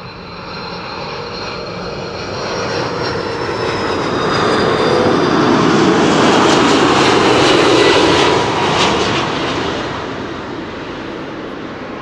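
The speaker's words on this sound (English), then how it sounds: "This is Turkish flight 1951," A Turkish Airlines Airbus A330-300 arriving from Istanbul at Schiphol Airport on a calm day, its jet engine roar swelling steadily to a loud peak and then easing off as it passes.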